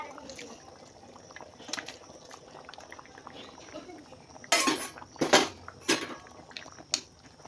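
Fish heads drop into a pot of boiling water, giving a few loud broadband splashes and sizzles near the end over a steady low bubbling, recorded close in a home kitchen.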